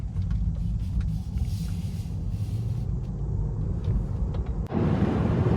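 Tesla Model 3 pulling away onto the German Autobahn, a steady low road rumble and tyre drone from inside the electric car, swelling abruptly louder with broadband wind and road noise near the end as it gathers speed.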